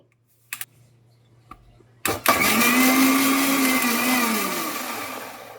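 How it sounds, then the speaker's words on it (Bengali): A kitchen blender grinding mustard flowers into paste, a few clicks and handling knocks, then the motor surges on and whirs loudly and steadily, pitch drifting slightly as it runs. "সরিষার ফুলটা যে ব্লেন্ডারে দিয়েছি, এই যে জাস্ট আমি এখন একটু ব্লেন্ড করে নিব"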